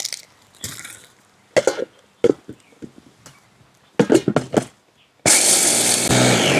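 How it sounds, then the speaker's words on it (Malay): Fried peanuts go into a kitchen blender. A few scattered knocks and clatters come first, then the motor kicks in with a loud, steady grinding roar. "Ni mula-mula ni kita mai blend kacang dulu."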